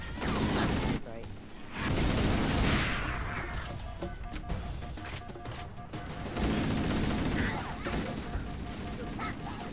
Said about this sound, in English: I like how I shot that grunt from the side